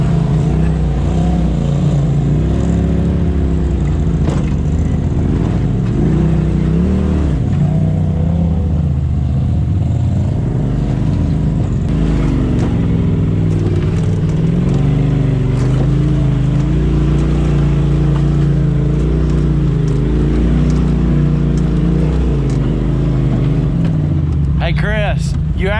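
An off-road vehicle crawls along a rough trail, its engine droning loudly and continuously with shifting rumble and occasional revs, close and constant throughout.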